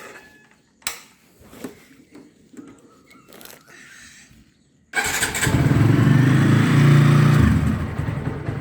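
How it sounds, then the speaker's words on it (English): A motorcycle is cold-started early in the morning. Quiet clicks and handling noises come first, then the engine catches and settles into a loud, close idle with a brief swell. "So let's do a early morning cold start."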